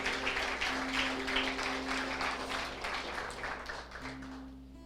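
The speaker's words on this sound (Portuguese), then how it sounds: "Aplauda o Senhor pela palavra dele" A church congregation applauds together, a dense steady patter of many hands at moderate distance that slowly thins out toward the end, with a low hum underneath.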